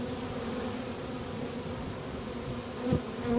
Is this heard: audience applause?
no